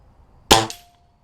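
One gas ram air rifle shot at a 28-yard range: a single sharp, close crack with a quick metallic twang that fades in under half a second.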